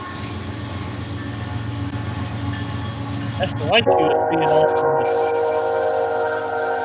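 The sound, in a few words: train passing with whistle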